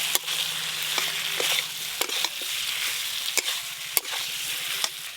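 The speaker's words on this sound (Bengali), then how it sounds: "মশলার সঙ্গে ওলকপিগুলো খুব ভালো করে মিশিয়ে নিয়েছি" Kohlrabi fried and stirred into spice paste in a pan, a steady broad sizzle with sharp utensil scrapes and clacks every second or so, close and fairly loud, no voices.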